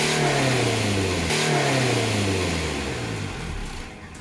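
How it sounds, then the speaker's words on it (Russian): Car engine revved during an emissions test in Turkey, climbing then falling in pitch with a strong mid-range roar, close and loud, easing off toward the end with no talk. "делать перегазовку."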